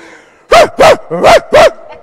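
A person imitates a chihuahua's bark, four loud, close yappy barks in quick succession with short gaps between them, each sharp and high-pitched.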